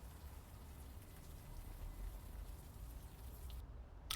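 Rain falls in the game Unavowed as a steady, faint, noisy hiss with a low rumble, continuous and even throughout with no talk.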